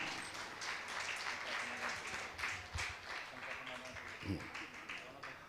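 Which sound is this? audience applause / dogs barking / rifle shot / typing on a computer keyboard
audience applause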